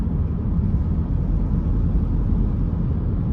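Inside a moving car, a steady, loud low road-and-engine rumble fills the whole stretch with no voices and no change in pace.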